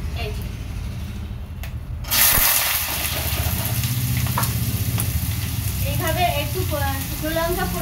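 Potatoes and okra hit hot oil in a wok, a sudden loud sizzle that settles into steady frying, with stirring scrapes and someone talking over it.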